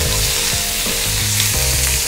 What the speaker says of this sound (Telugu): కాలీఫ్లవర్ వేసుకో, కొంచెం ఫ్రై అయిన తర్వాత ఉల్లిపాయ